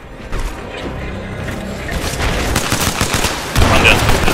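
Rapid automatic gunfire from a video game, a dense rattling stream of shots building louder toward the end, with someone talking under it.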